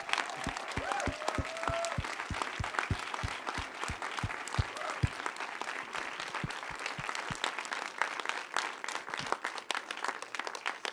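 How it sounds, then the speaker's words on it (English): Applause from a live show audience for storytellers in Eagle County, Colorado, sustained clapping from a crowd with sharp individual claps standing out nearby, gradually thinning toward the end, with a voice briefly audible beneath. "how about one more round of applause for our Eagle County,"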